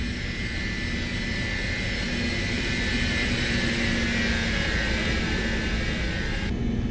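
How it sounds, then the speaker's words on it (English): MD-80 jet engines roaring during the takeoff roll in a flight simulator game, a loud, steady broadband roar with high whine tones, sustained throughout with no talk. "I don't know how I feel about the sounds, but hey, man, I love this airplane."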